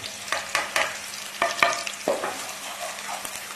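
Lightly cooked onions with cumin, ajwain and masala sizzle in a pan for a mooli paratha filling, with a constant crackling fry under several sharp spoon scrapes and taps. No speech is heard.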